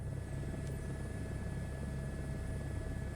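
A helicopter turbine engine in MSFS 2024 hums steadily at takeoff power with a constant low rotor drone and a thin high whine, fairly quiet and unchanging, without speech.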